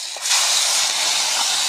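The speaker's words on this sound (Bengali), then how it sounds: "এখন এখানে গোটা জিরা ফোড়ন আর তেজপাতা দিয়ে দিয়েছি।" Whole cumin seeds and bay leaf hit hot oil in a pan and sizzle in a loud, bright, steady hiss that flares up sharply at the start, close by with no talking.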